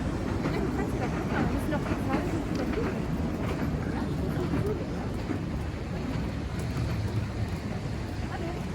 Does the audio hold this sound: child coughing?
no